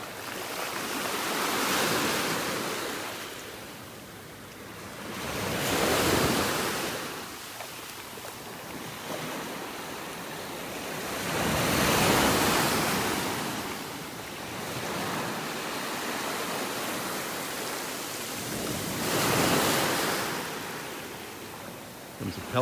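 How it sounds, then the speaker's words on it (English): Ocean waves roll in and break on a beach in North Naples, Florida, surging loudly about every six seconds over a constant wash of surf and wind noise. "Love listening to those waves."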